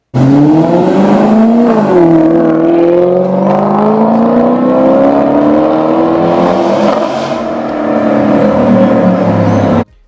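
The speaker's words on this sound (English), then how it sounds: "This car has an amazing engine with a crazy note to it. Take a listen." An Italian sports car engine revs loudly and continuously, its pitch rising and falling through several sweeps before cutting off abruptly.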